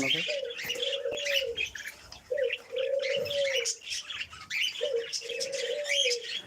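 At a hobby bird farm, pigeons or doves coo in three clear, evenly spaced calls while smaller birds chirp and twitter in a busy chorus around them, close and fairly loud.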